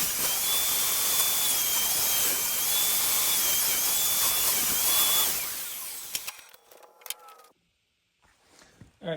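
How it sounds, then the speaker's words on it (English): A table saw rips wood into strips for a lantern build with a loud, sustained whining cut for about five seconds. The blade then winds down, followed by faint scattered workshop clatter. "we're at the table saw, we're working on the lantern, is we're going to start ripping down these strips for the lantern"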